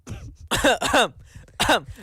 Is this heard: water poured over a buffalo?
no